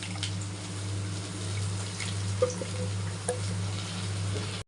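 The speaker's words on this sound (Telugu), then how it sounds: "ఇందులో కొంచెం నీళ్ళు పోసుకొని కలిపేసుకున్నామండి" Water trickles and splashes softly into a pot of drumstick lentil stew over a low steady hum, with a couple of small clinks and drips.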